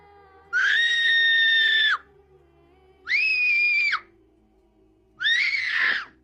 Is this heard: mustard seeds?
no